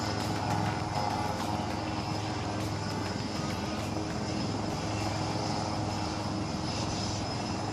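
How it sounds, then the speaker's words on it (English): Surya Kiran aerobatic team jets taking off at the Aero India 2023 air show in Bengaluru, a steady loud engine roar sustained throughout with a broad whooshing rush and low drone, no talk. "We are standby for the Surya Kiran aerobatic team takeoff."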